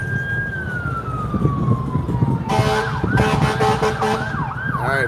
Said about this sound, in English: got a fire engine coming out down there for some reason.